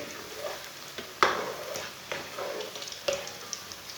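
Spinach pakoras frying in oil, a soft steady sizzle with a few sharper clinks and scrapes as pieces are stirred and turned, fairly quiet and close, with no voices.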